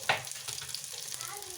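Food frying in a pan for batani talimpu, a soft steady sizzle with a brief sharp crackle at the start, fairly quiet and close, with no speech.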